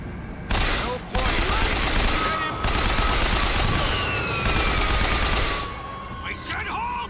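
Rapid, sustained gunfire from Bioshock Infinite rattles loudly and almost continuously through a firefight, with a brief gap early on, and distant game voices underneath.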